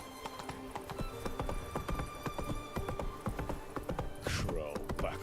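Horse hooves clip-clop steadily at a quick gait in The Witcher 3 video game, with a brief neigh near the end and a low hum beneath the rhythmic footfalls.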